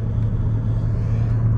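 A Mercedes SLK55 AMG with its engine still a little cold, driven gently, holds a steady low engine drone and road hum at moderate level with no talking.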